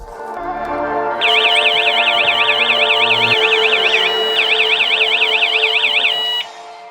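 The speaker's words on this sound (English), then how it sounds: "The local alert is made through the indoor siren included in the package with a level of" A PNI PG2710 wireless alarm's indoor siren, rated at 110 decibels, sounds a loud, piercing rapid warble for about five seconds with a brief break midway, then cuts off abruptly.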